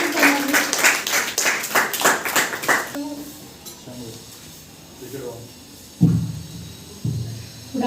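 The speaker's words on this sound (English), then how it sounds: "Please, a big round of applause for her." An audience at a school elocution competition claps for a speaker, a dense burst of applause that stops abruptly about three seconds in and leaves quieter room noise with a few thumps.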